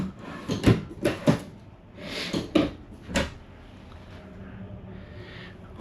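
Drawers in a 2025 Shadow Cruiser 225RBS travel trailer kitchen slide open and shut with hidden hinges, several quick thuds and rattles in a row, close and moderately loud, followed by quieter room noise.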